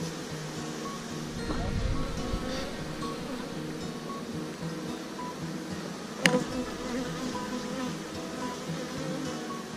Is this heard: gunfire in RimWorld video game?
no